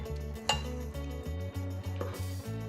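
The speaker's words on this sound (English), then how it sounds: "give it a quick stir with your regular spoon" A regular spoon stirs risotto in a KitchenAid multi-cooker, giving soft scraping and occasional clinks against the pot, steady and close, with a low rhythmic hum running underneath.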